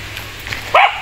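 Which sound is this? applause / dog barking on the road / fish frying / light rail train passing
dog barking on the road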